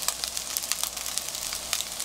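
Eggs frying and getting scrambled in a pan for kimchi fried rice, a steady bright sizzle full of small crackling pops throughout, with no voices.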